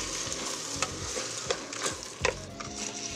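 Medium-grain rice and diced tomato are stirred in a frying pan, making a continuous close sizzle with soft scraping strokes and a few louder knocks of the utensil against the pan.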